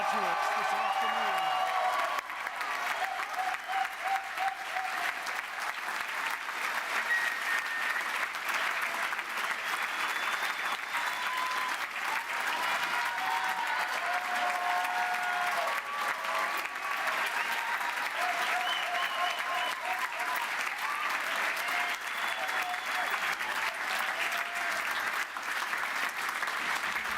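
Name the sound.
graduation ceremony applause and cheering for graduates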